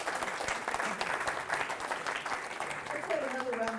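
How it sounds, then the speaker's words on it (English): Applause from an event audience for three women at a community history gathering in Fairbanks, steady dense clapping throughout at moderate level, with a faint voice starting to speak near the end. "have another round of applause for these three wonderful women"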